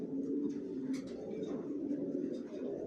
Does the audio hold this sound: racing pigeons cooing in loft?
yes